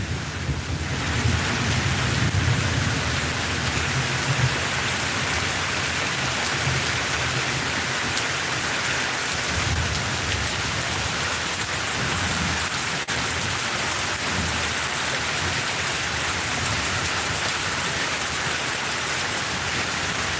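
Heavy monsoon rain pours in Mahelav, Gujarat, a dense, unbroken roar with wind buffeting the microphone and a low rumble swelling now and then, no voices.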